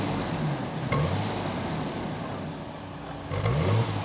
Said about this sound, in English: Okay, give it a rev.